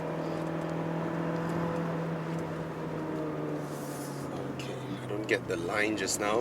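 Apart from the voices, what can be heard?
engine note of a 1.5 litre Mazda 3 hatchback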